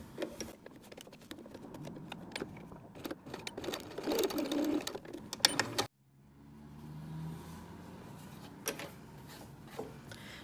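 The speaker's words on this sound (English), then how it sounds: "We are going to sew the channels closed on each end to keep our wire in place." A sewing machine stitches channels closed at each end of a fabric mask, running in short rapid bursts of needle clatter, then a pause and quieter rustling and handling.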